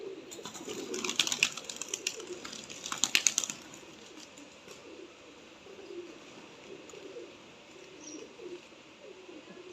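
A grey desi pigeon coos softly in low, rounded notes that recur faintly through a quiet space, with a few crisp clicks and rustles near the start.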